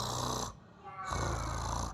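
A voice imitating deep snoring to demonstrate the guttural Arabic letter kha, two long rasping snores separated by a brief pause, close and loud.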